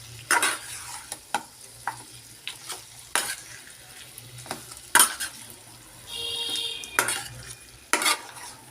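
A spoon scrapes and clatters against a pan as mutton is stirred, irregular knocks over a soft frying sizzle, with a brief steady hiss partway through.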